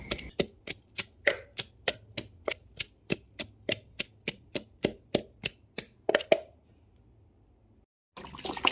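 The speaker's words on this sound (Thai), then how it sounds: "เครื่องแกงที่ตำก็จะใส่พริกกับหอมแดงค่ะ ตำให้ละเอียดเลยนะคะ" Chili and shallot curry paste for a spicy mushroom and pumpkin curry is pounded in a mortar: about twenty sharp, evenly spaced thuds in a steady rhythm, close and alone, followed by a pause.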